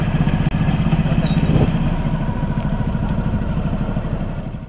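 A motorcycle tows a farmer-built mini trolley about eight feet long and one foot high, its engine giving a steady, close rumble with a light clattering texture throughout.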